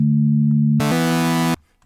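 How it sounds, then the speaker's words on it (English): A pure synthesizer sine wave tone hums steadily, then shifts abruptly to a brighter, buzzier harmonic-rich waveform that holds for about a second before cutting off sharply, with no voices. "So you've got the sine wave,"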